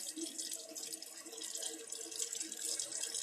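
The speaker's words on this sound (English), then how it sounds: "Rinse your hands now for 10 seconds." Hands rinsed under running tap water at a sink during a hand-washing routine, a steady, soft hiss of flowing water with light splashing, fairly faint and unbroken.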